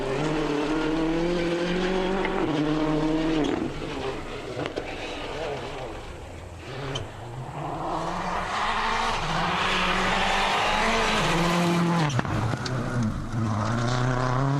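Ford rally car racing flat out through a gravel stage of the 2005 Rally New Zealand, its engine droning and shifting pitch continuously, with a commentator talking over it throughout.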